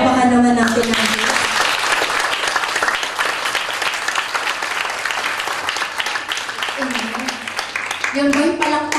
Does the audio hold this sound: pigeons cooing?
no